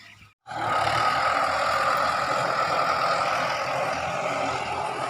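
A walk-behind tractor engine runs in a durian orchard, a steady loud chugging drone that sets in after a brief silent gap and holds on continuously with no talk.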